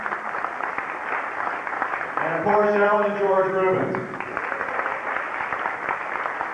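Steady audience applause fills a banquet hall at a 1999 Man of the Year ceremony, a continuous wash of clapping that swells briefly while someone speaks over it.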